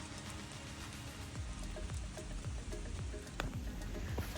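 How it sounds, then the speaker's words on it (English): Rain falls steadily on the Appalachian Trail near Upper Goose Pond and Pittsfield, Massachusetts, a soft continuous patter with scattered nearby drops and low rumbles underneath, heard alone without voices. "it's been raining on and off"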